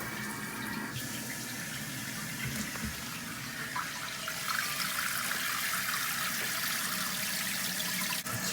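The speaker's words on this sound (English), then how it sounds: "Let's turn on the water." A toilet tank fills through a new Fluidmaster fill valve with a steady hiss of rushing water that lasts throughout and grows a little louder partway through, with no one speaking.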